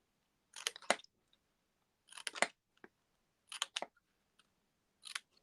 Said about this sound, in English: I am going to start doing some snipping on here